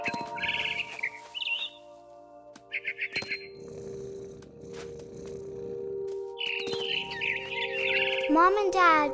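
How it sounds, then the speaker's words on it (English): A barn swallow in the game What Remains of Edith Finch gives several short bursts of bright, chirping calls spread through the clip, partly overlapping a narrator's voice and ambient game sounds. "It was a barn swallow going back to her nest."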